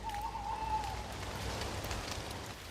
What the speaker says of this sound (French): Il y a quelque chose de particulier dans le son de la pluie.